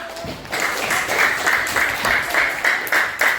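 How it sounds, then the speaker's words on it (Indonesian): Classroom audience of students applauding after a group presentation in a science lab lesson at an Indonesian madrasah, a steady rhythmic clapping that fills the room, fairly loud and continuous without talk. "Kasih aplaus."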